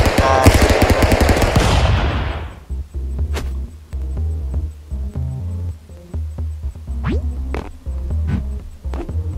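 Rapid automatic gunfire in the video game Stick Fight, a dense loud burst of shots over the first couple of seconds, then scattered single shots and clicks over a low game hum.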